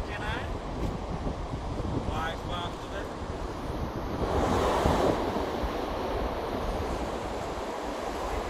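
Waves at Keshavadasupalem beach in East Godavari, Andhra Pradesh, a continuous roar of surf mixed with strong wind buffeting the microphone and a swell of breaking water near the middle.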